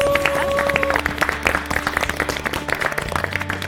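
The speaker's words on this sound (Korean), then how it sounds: "네 분에게 감사와 축하의 박수를 보내드립니다." A studio audience applauds four participants on a Korean diet special television show, with dense clapping that thins toward the end and a voice faintly present.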